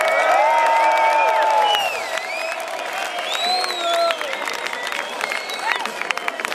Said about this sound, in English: give yourself some applause tonight.